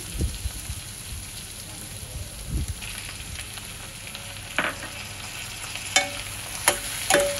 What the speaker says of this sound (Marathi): हे कांदा टोमॅटो छान परतून झाले